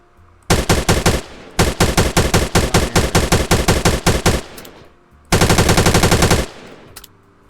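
Automatic gunfire in a Roblox game, aimed at an airdrop falling from the sky: three loud rapid bursts, the middle one longest, separated by short pauses, with no talking.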